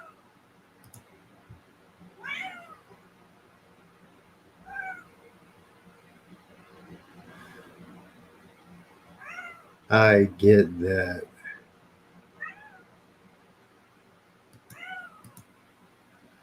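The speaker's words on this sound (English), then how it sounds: "you just sit there and meow, meow, meow" A house cat meows repeatedly, short cries spaced a few seconds apart through quiet indoor room tone, while a person talks briefly in the middle.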